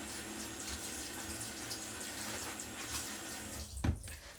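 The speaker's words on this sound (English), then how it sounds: "I want to rinse my towel" Steady rush of tap water running into a bathroom sink as a towel is rinsed, a continuous close hiss with a brief splashy thud near the end.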